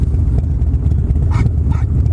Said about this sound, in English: Dog doesn't like the bike.